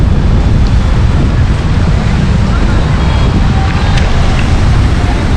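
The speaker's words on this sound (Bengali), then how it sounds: "দূর থেকেই সমুদ্রের গর্জন কিন্তু ভেসে আসছে কানে।" Sea waves at Puri beach give a loud, continuous broadband roar, heavily mixed with wind buffeting the microphone, with no clear break or rhythm.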